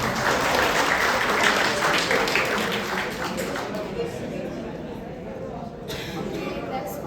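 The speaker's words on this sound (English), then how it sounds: "Please clap a bit louder." Audience applause at a technical talk on Go concurrency, dense steady clapping filling the room for several seconds, tapering slightly near the end, with a faint voice underneath.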